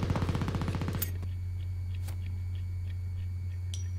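Gunfire from a Joker film scene plays on a screen: a fast, loud rattling burst of automatic shots for about a second, then a low steady hum with a few faint scattered clicks and shots.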